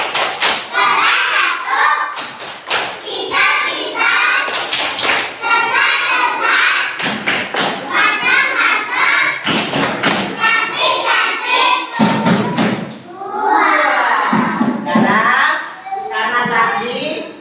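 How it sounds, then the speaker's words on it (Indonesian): A first-grade class claps a rhythmic routine in a classroom, dense children's voices chanting along over repeated loud hand thumps and taps that run throughout. "Tepuk anak kelas 1."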